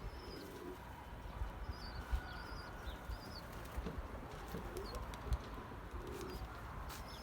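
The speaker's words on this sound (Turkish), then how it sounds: "Yavrularımızı havaya verdik ufak ufak işte böyle." Young pigeons take to the air, their wings flapping in soft, repeated bursts at a moderate distance, with faint bird calls and a quiet outdoor background.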